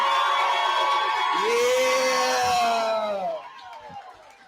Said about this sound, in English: Make some noise for that